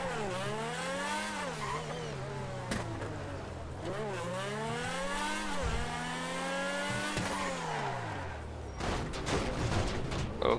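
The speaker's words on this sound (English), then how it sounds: "I can actually hear the pops and crackles from the exhaust with this car." A gold Lamborghini sports car engine in GTA 5 revs up and down through gear changes, rising and falling in pitch, with exhaust crackles and pops near the end.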